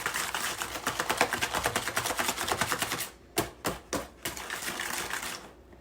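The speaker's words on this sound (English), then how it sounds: "Take a whisk and whisk it up pretty good." A metal whisk beats a brown sugar mixture for Derby pies with rapid, rhythmic clicking against the bowl, then slows to a few separate, sharper strokes before fading out.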